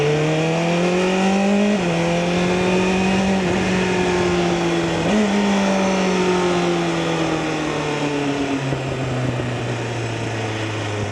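A 2024 BMW M1000RR sport motorcycle is ridden at speed, its engine droning loudly with pitch rising through gears and dipping at shifts, broken by a few soft exhaust pops.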